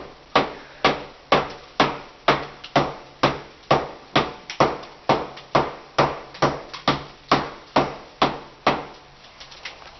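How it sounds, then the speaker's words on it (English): Repeated hammer blows loosening bathroom wall tile and the drywall behind it during a small bathroom renovation, about two sharp impacts per second in a steady rhythm, close and loud with no talk. "you're going to hammer in a square"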